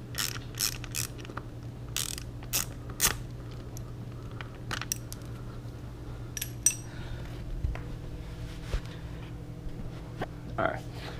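Ratchet removing a screw from the fairing of a BMW S1000R motorcycle, bursts of rapid close clicking at the start, then scattered quieter clicks and tool clinks over a low steady hum.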